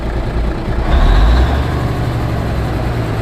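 A 1978 Oshkosh truck engine runs loud and close with a heavy low rumble, revving up to a peak about a second in before settling back to a steady idle.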